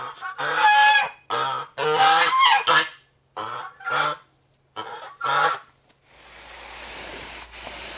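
Geese honk repeatedly inside a shop workshop, a run of loud, close, nasal calls in uneven bursts, followed by a steady hiss of spraying toward the end.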